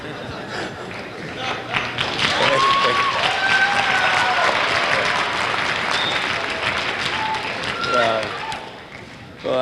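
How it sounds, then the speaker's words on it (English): Applause from a school audience at Admiral King High's Black History Month program, a sustained wash of many hands clapping with cheers and chatter mixed in, loud throughout and swelling again at the end. "Now you can really clap"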